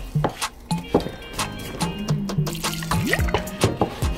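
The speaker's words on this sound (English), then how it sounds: "so this is bottled water I'm using, Chad." Bottled water pours into a bowl of vegan chicken batter with gurgling splashes and light clinks, fairly close and loud, in uneven glugs over a few seconds.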